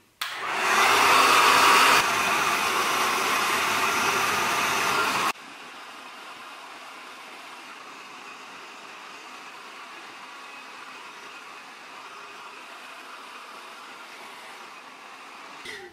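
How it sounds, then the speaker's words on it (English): Revlon 2-in-1 blow dryer volumizer running on its hottest setting while drying hair, a loud steady whoosh that drops to a softer, steady airflow hum after about five seconds and continues alone. "So I'm just gonna use this on the hottest setting and I'm gonna dry my hair real quickly."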